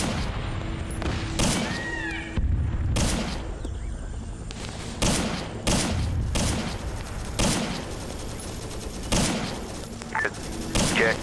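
Gunfire in the military video game Arma 3, set in Vietnam: sharp rifle shots and booming bursts fire at irregular intervals, some in quick pairs, against a constant background rumble.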